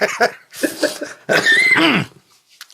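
A few short coughs and throaty bursts, close to the mic, followed by a strained, rasping vocal sound and a brief quiet tail.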